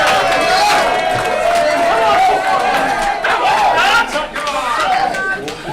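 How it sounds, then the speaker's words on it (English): A wrestling crowd roars and cheers in support of a wrestler during a near-fall, dense and continuous, with a commentator talking over the noise. "The crowd coming alive in support of Doug Williams."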